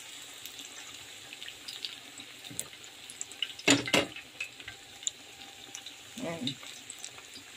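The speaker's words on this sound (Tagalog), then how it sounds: "hugasan ko yung aking kamay" Water runs from a tap as hands are washed at a sink, with short splashing bursts between quieter stretches and a brief spoken word over the top.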